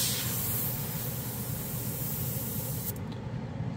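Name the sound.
Badger 360 airbrush spraying paint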